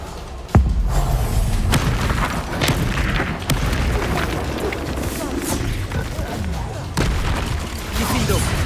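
Confringo spell blasts in the Hogwarts Legacy video game, several loud booming explosions bursting over continuous game noise, with a voice calling out spells.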